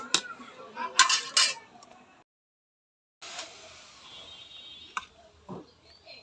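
Mangoes going into a pot of boiling lentil dal for a sour mango dal, heard as a few close clinks and knocks of utensils on the pot, with a brief silent gap midway, then quieter scraping and small taps.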